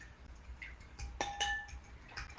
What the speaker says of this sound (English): So I'm going to start the mixing with a fork so I can whisk up those eggs.